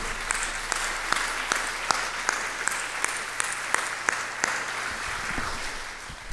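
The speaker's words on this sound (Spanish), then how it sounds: "¿Por qué no le damos un aplauso a Dios?" A church congregation applauding during a sermon, a steady crowd of hands clapping with some sharp individual claps standing out, fading slightly at the end.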